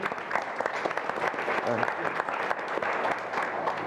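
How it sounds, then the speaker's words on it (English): An audience at a European organic food and farming congress claps for an arriving young farmers' representative, a dense, fairly soft ripple of applause that runs steadily throughout. "I would like, first of all, an applause for Jan that has arrived"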